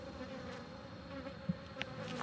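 Honey bees buzz faintly around an open hive during a cool-morning swarm inspection, a soft, steady hum with a couple of brief louder buzzes passing close.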